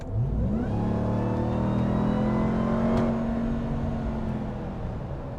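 A 2022 RAM TRX pickup's engine and exhaust rev hard and close, the pitch climbing steeply then holding a loud sustained roar before easing slightly, with no talking.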